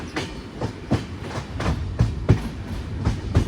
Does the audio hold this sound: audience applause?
no